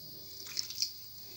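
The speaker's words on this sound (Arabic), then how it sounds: "ننزل بالمية بقى بسم الله كده واحدة واحدة" Water trickles slowly into flour rubbed with oil while mixing a dough for a breakfast dish, a faint, soft dribble with a few slightly louder splashes in the middle and no voices.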